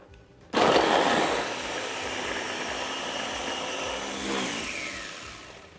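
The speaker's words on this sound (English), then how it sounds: "Cover it up and we'll blend this to a smooth paste." A kitchen blender grinds an Indonesian curry spice paste (rempah) with water. The motor kicks in abruptly and keeps a steady, loud whirring drone for several seconds, then slowly eases off.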